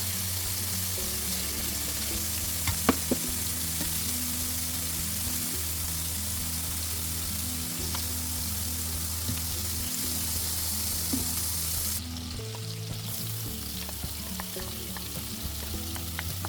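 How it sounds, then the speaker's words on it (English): Fresh garlic, about ten cloves, frying in a beef-greased pan for a creamy garlic butter sauce: a steady, dense sizzle with occasional light clicks and a brief stirring shift near the end, no voices. "For the sauce, I'm just adding garlic into the same pan."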